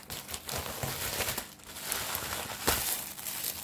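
Disposable plastic bags crinkle and rustle quietly and continuously during unboxing, with irregular crackles of handling and no voices.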